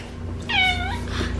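A pet cat gives a single clear meow, mid-length and fairly close, over a steady low indoor hum, with a fainter second mew just after; no one speaks.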